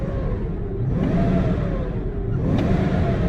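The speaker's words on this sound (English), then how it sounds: "Revs up really nice" A car engine revs twice in succession, rising and falling in pitch with a loud mid-range drone, close by and without talking, in a vehicle showing airbag and traction control warning lights.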